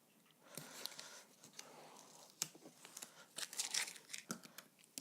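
Close crinkling and ripping of painter's tape being pulled and torn at a quilting setup, in uneven bursts that grow denser toward the end.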